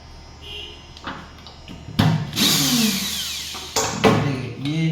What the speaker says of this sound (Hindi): ये अभी हम इसके लगाते हैं तीसरा स्क्रू भी।